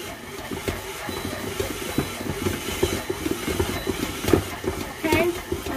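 A stand mixer kneads bread dough for Puerto Rican pan de agua on low speed, giving a steady rumbling, clattering churn with rhythmic knocks throughout, close and moderately loud.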